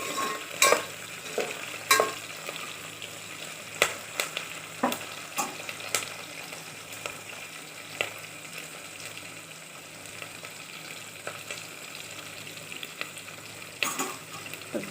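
Rayalaseema uggani bajji ingredients fry in hot oil, a continuous soft sizzle broken by repeated sharp clicks and scrapes of a utensil against the pan, with no talking.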